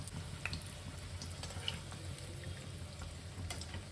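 Fish balls frying in medium-hot oil, a faint, steady low sizzle with scattered soft crackles and pops throughout, no talking.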